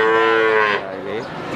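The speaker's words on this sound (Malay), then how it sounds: "Ini sapinya, guys." A cow moos loudly and close at a cattle market, one long resonant low call that drops in pitch and trails off, with market noise behind.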